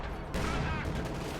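Artillery scatter shot in a tank video game, a dense burst of blasts and rumble lasting about a second, loud and close after a brief quieter lead-in.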